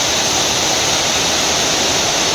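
Storm runoff from heavy rain rushes past flooded ground as a loud, dense, continuous roar of flowing water. There is no break in it and no speech over it.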